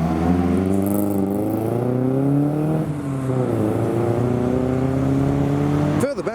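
A Zakspeed Ford Escort Mark II leaves a car show, its engine running loud and close with steady harmonic drone and shifting revs, then a sharp rev burst at the end.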